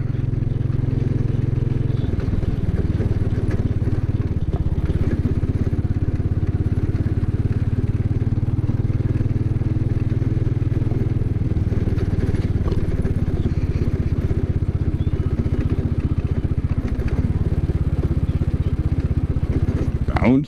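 A Suzuki Savage 650 motorcycle ridden through woods, its engine a steady loud rumble close to the rider throughout, with occasional clatter from the bumpy trail.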